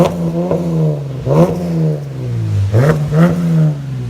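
Car engine with an X-pipe muffler-delete exhaust and burnt tips revving hard several times, each blip rising then falling back to a loud, raspy idle, close by with no talking.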